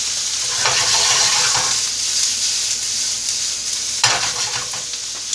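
Shrimp hit a hot pan already holding onion and pepper for a Cajun shrimp étouffée, setting off a loud, steady close-up sizzle with bursts of stirring and scraping throughout.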